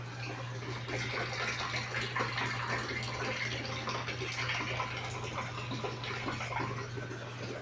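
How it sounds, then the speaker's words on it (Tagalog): Weak refill of water trickling into a toilet tank, a thin steady hiss of running water from the supply line with a constant low hum beneath, continuous and moderately quiet, with no talking. "mahina yung refill ng tubig sa loob ng tangke"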